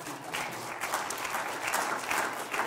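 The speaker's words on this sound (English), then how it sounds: "Give these motley men a round of applause." Applause from an audience at a school Christmas program, steady dense clapping filling the hall throughout, moderately loud with no talk over it.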